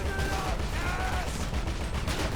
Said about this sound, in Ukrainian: Ось кулемет кулемет.